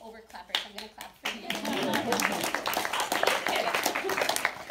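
At an elementary school panel, a few individual claps ring out, then a crowd joins in with sustained applause that continues steadily to the end.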